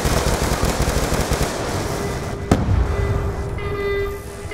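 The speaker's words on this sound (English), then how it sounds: "SAT antenna's under fire!" Sustained automatic gunfire in Call of Duty Black Ops 2 during an attack on a satellite antenna position, a dense continuous rattle with a sharp single crack midway and a fading tonal ring at the end.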